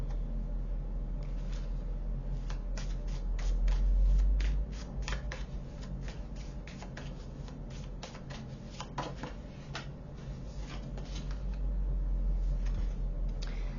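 Tarot cards are shuffled by hand in a run of quick papery riffles and flicks, close and fairly loud over a low steady hum, with no talk.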